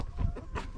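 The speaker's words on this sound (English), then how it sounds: "We've got one really large rooster over here." Chickens cluck on a farm among roosters, including Cochin birds, in a brief, fairly close burst of a few clucks.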